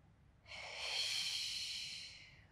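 A single deep inhaling breath during a Pilates neck and posture exercise, a soft airy hiss that swells and fades over about two seconds, close and alone in a quiet room.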